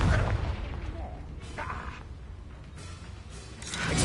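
A Confringo blasting-curse explosion in a video game sounds as a deep, heavy boom at the start, followed by rumbling, crackling game noise and a faint rising burst at the end.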